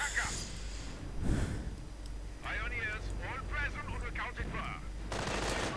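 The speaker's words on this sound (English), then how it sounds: "Mortar firing away as well, hoping to deter any German advances up on the flank" Mortar and small-arms fire crackle in a WWII strategy video game battle between US and German forces, with bursts and booms recurring over a steady rumble and game voice chatter in the middle.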